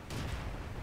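A T71 tank cannon fires in World of Tanks: a single heavy, muffled boom that swells and rumbles low for under a second, with no voices.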